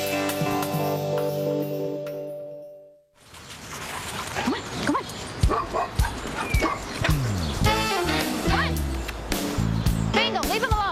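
A golden retriever in service-dog training is likely barking and yipping across the second part of the scene, with short bright repeated calls mixed under music and people talking, after a quieter opening with a sustained tonal backing.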